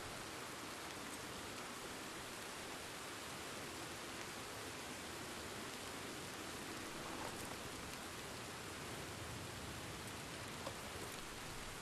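Steady rain falls in the video game Red Dead Redemption 2, a dense, even hiss with no pauses and no voices over it.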